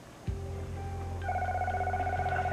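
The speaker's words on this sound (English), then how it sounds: "I think that's our phone." A telephone rings in a television soap-opera scene, its tone starting abruptly and sustaining, then rising to a louder ring with no one speaking.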